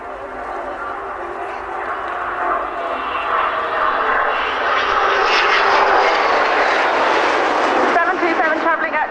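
A Nimrod R1 jet aircraft roars past loudly at about 270 knots at an air show, its broad engine noise swelling and rising in pitch as it approaches, with a voice faintly underneath.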